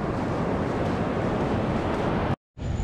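Broadband surf washes steadily onto a beach at Guaratuba on a fair, lightly cloudy day, wind buffeting the microphone, then cuts to near silence before the roar resumes.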